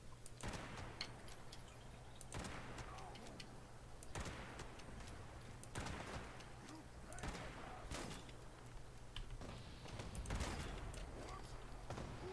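Gunfire in Fallout 76, a series of sharp shots at irregular intervals roughly every one to two seconds over a low steady background hum.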